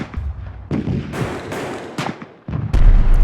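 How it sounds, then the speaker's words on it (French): Cannon fire from the June 1848 insurrection in Paris: several heavy booming blasts with rumbling echoes, loud and close, separated by short gaps and mixed with battle noise. "Ça sera le canon de Cavaignac des journées de juin."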